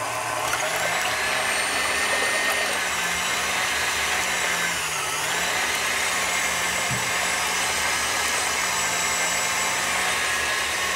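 An electric mixer beats egg whites with sugar into meringue, giving a steady, close, high-pitched whine that runs unbroken throughout, with a slight dip in pitch midway.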